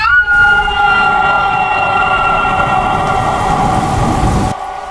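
Heavy rain pours in a dark night thunderstorm, with a loud continuous roar and rumbling thunder alongside steady tonal layers, all filling the scene without any voices.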